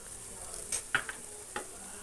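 Onions fry quietly with turmeric and ginger-garlic paste, giving a soft, low sizzle broken by a few sharp utensil taps against the pan.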